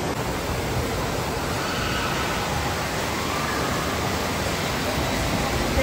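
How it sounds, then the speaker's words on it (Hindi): Loud, steady rush of water fills a water park pool area at Water World Ocean Park, a continuous broadband roar with no break, close and enveloping throughout. "एकदम पूरा पानी का आवाज आ रहा ना"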